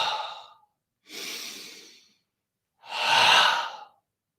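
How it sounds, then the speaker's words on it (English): Three slow, deliberate breaths during a guided meditation, each a long airy exhale or inhale separated by silent pauses, close to the microphone and clearly audible. "I'm breathing through my body, out on the back, letting go of it"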